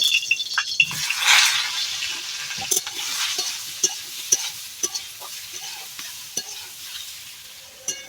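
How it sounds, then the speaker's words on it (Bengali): Cauliflower and potato pieces fry in oil in a pan over a clay stove, with a steady soft sizzle broken by scattered clicks and scrapes of stirring, close by. "ফুলকপি এবং আলু তেলের মধ্যে তুলে দিয়ে একটু হালকা ভেজে নেব"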